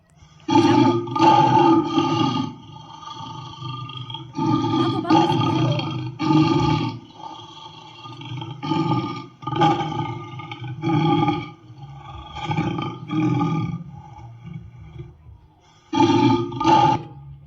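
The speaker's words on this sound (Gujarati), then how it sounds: "આ ₹1 સિક્કો હું પેટીની અંદર નાખીશ ને એટલે સિંહ છે ને ગરજવાનું ચાલુ કરી દેશે" A recorded lion roar plays from a coin-operated box at Shakti Van, Khodaldham. It comes as a series of loud, deep roaring and grunting bursts separated by short pauses, with no talk over it.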